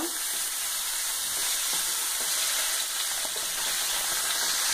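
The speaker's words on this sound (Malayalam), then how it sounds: "ഒരു പാനിൽ വെളിച്ചെണ്ണ ചൂടാക്കി കടുക് പൊട്ടിച്ച് പച്ചമുളക് ഇടുക പച്ചമുളക് ഒന്ന് വാടിയതിനു ശേഷം നേരത്തെ അരിഞ്ഞു വെച്ചിരിക്കുന്ന കൂൺ ഇതിലേക്ക് ചേർക്കുക" Mushrooms frying in coconut oil with mustard seeds and green chilli in a pan, a loud, continuous close sizzle with faint stirring scrapes and no talk.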